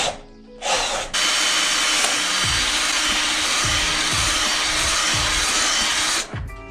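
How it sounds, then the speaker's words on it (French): A power drill bores holes through a Maxton Design front lip on a Chrysler Crossfire, running in several sustained loud bursts with brief dips between them as the bit bites, then stopping at the end. "Percer sur les côtés, là, sur les bords, c'est un peu plus chiant."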